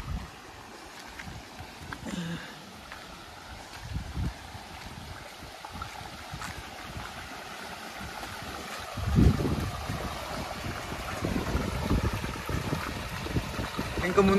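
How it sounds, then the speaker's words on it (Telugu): Water pours steadily at Gandahati waterfall among large rocks, giving a low continuous rush that swells louder toward the end, with a voice briefly audible over it. "గండహతి వాటర్ ఫాల్స్."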